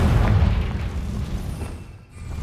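Confringo fire spell explosion in the video game Hogwarts Legacy, a loud low boom that rumbles and decays over a couple of seconds, with no talk over it.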